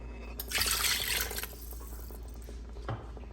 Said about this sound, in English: I'll put in a bit more of water